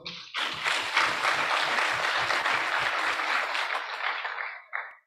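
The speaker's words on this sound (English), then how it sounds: "Can we give them a round of applause?" Sustained applause from a crowd at a research forum, loud and steady for several seconds before tapering off, with a brief voice at the very end.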